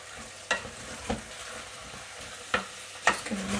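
Cream being stirred into a pan of cooking vegan or vegetarian food, soft scraping strokes at irregular intervals over a faint low sizzle, close and quiet with no voices.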